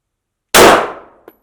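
A single sharp pistol shot from a Glock 17 MOS at a shooting range cracks loud and close, then decays over about half a second. A faint click follows.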